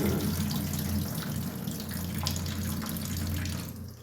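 Running water splashes steadily as poha flakes are rinsed lightly in a vessel, a continuous close wash of flowing liquid with no talking over it.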